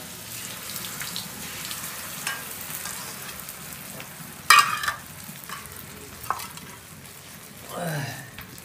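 Egg mixture meets a hot griddle, a soft ongoing sizzle with scraping and stirring clatter, a sharp burst midway and a brief voice near the end.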